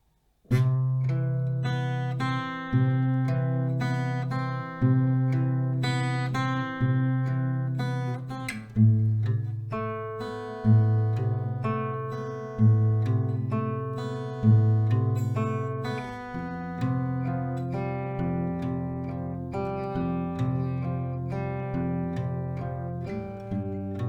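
Chords of a song are picked slowly on an acoustic guitar, with regular plucked attacks and ringing, decaying notes in a steady rhythm, played alone without talking.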